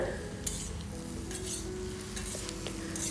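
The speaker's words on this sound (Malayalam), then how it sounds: "അതും കൂടെ ചേർത്ത് നന്നായി ഒന്ന് മിക്സ് ചെയ്ത് ഈ മസാല എല്ലാം നമ്മുടെ ഉരുളക്കിഴങ്ങിലേക്കും കൂടെ ഒന്ന് പിടിക്കുന്നത് വരെ ഒന്ന് മിക്സ് ചെയ്തെടുക്കുക." Boiled potatoes and brinjal stir-fried in masala, a soft steady sizzle under repeated scraping and stirring strokes of a spoon in the pan, no talking.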